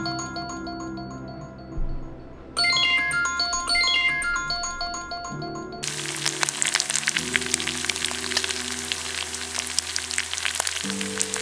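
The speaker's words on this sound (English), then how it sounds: "Bacon sizzles" Bacon sizzles in a frying pan on a morning before a day of travel, a bright crackling hiss taking over halfway through, following a stretch of ringtone-like chimes, with no talking.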